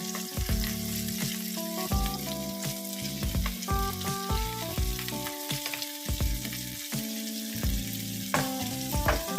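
Bacon frying in a pan over low heat, giving off a steady crackling sizzle throughout with background music playing over it.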